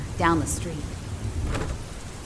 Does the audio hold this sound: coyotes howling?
no